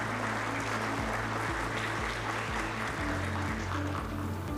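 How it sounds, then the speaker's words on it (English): Audience applause for Girl Scouts and an Honor Guard at a city State of the City event in San Gabriel, a steady sustained wash of clapping over a low hum lasting the whole stretch. "Let's give a round of applause to our Girl Scouts and our Honor Guard"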